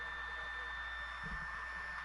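A hair dryer runs steadily in the background at low level, a constant broadband whir with a couple of steady whining tones, while a faint low thump or voice briefly surfaces.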